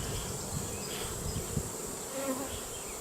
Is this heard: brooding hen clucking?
no